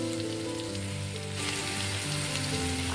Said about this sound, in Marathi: त्यात आपण लसूण घालून घेणार आहोत लसणाला छान असं परतून घ्यायचं आहे